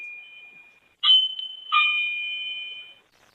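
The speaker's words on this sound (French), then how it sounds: "C'est la sonnette de la maison." A toy house doorbell, a two-tone electronic chime, rings twice, a high steady beep followed by a sustained lower tone, fairly close and clear against silence.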